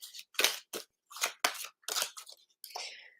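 Crisp, papery riffling and snapping of cards being shuffled in short bursts, close and fairly quiet, with brief gaps between the bursts.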